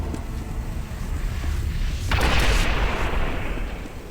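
A grenade explodes in Quake 4, a loud broadband boom bursting in around the midpoint over steady game background rumble and decaying into a rolling wash.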